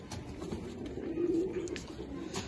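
Pigeons coo steadily in a low, soft rolling murmur at close range, with a slightly louder burst of cooing midway, set outdoors in winter sunshine where a flock is kept and fed.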